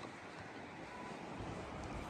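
Sea surf rolling onto a shore at a seaside town, a steady broadband wash of waves mixed with wind buffeting the microphone, continuous and fairly loud with no talking.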